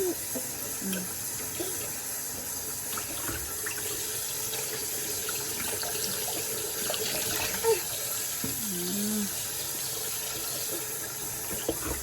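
Tap water runs steadily into a sink filling for a baby's bath, making a constant close splashing flow, with faint voices and small sounds in the background.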